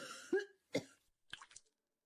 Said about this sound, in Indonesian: Ibu, ini sudah batuk darah yang ketiga kalinya hari ini.